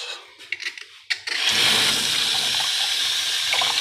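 A tap runs into a container to collect cooking water for tuna-head paksiw, a few clinks and knocks first, then a steady close gush of flowing water to the end.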